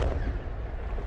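A powerful boom from a howitzer firing, heard as a loud broadband blast that rolls on through the short clip without fading much.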